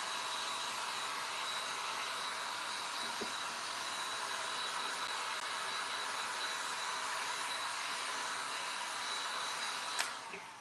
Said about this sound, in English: So we're going to hit this with the hairdryer.